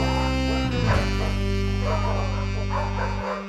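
Cartoon dogs in a Curious George puppy story, a room full of yellow, spotted and yappy dogs giving a few short barks and yips over a steady music bed.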